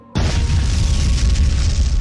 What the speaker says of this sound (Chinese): 手榴弹这时候爆炸了，一声巨响将这幢陈旧的楼房震得摇摇晃晃